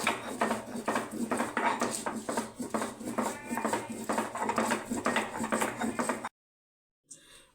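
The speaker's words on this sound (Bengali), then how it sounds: "কাঁচা লঙ্কাগুলোকে আমি ভালো করে বেটে নিচ্ছি" Green chillies being ground on a stone for a hilsa fish bhapa dish, giving rhythmic scraping and grinding strokes with a gritty texture. The strokes repeat steadily and close by, then stop abruptly just before the end.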